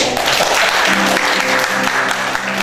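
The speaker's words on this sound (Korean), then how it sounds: "그러면 다시 한번 박수 더" A live audience at a Korean comedy stage show breaks into sustained, loud clapping, a thick, even roar of hands with faint background voices mixed in.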